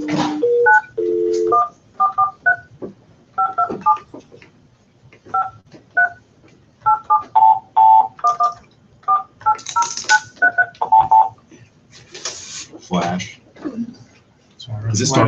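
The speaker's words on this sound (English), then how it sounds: "Try Flash and dial Yelena back." Telephone keypad DTMF tones dialing back into a conference call on a Hangout, a long string of short beeps in quick irregular groups, with brief bursts of voices and line noise between them.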